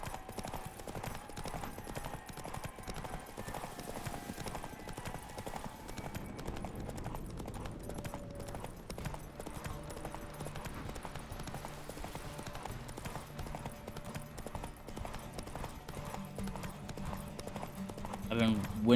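Hooves of Roach, the horse in The Witcher 3, galloping in a steady clip-clop rhythm during a race, heard faintly under game music, with someone talking over it.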